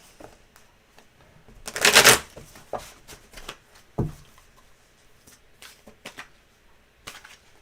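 Tarot cards are riffle-shuffled in one quick, crisp burst, followed by scattered soft taps and clicks as the deck is squared and handled.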